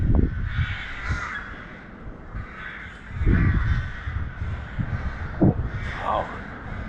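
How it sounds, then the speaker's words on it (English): Several crows caw in bursts in Bremen, Germany, some near and loud, others farther off, with irregular pauses between calls. "Wow, so many crows here."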